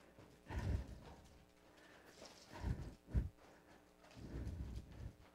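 A horse canters in a round pen, hooves thudding in a few dull, rhythmic clusters on soft ground, moderately close and fairly quiet, with faint ambient noise between beats.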